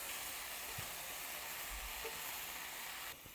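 Salmon sizzles in an oiled pan during stir-frying, a steady crackling hiss with a few soft knocks of the utensil against the pan, fairly close and without talk.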